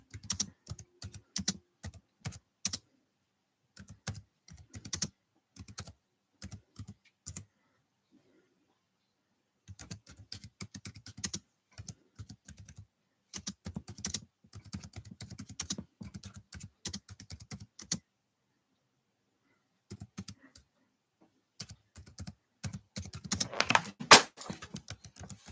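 Someone types on a computer keyboard in quick, irregular bursts of close clicking, separated by several pauses of near silence and a livelier flurry toward the end, with no talking.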